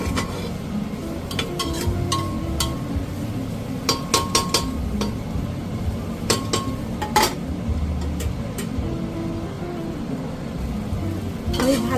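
A spatula scrapes and clinks against a pan while vegetables for samak rice khichdi sizzle underneath, with irregular metallic taps scattered over twelve seconds against a steady low frying hiss and no talking.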